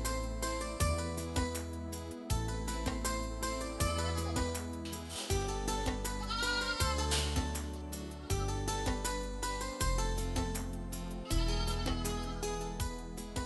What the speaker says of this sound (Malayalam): നല്ലൊരു ആട് ഫാം ഇദ്ദേഹത്തിനുണ്ട്.